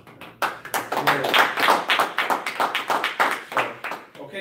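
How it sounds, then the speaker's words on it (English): A small group claps together at a training session, a steady run of close, dense handclaps lasting several seconds with a brief spoken word mixed in. "Round of applause"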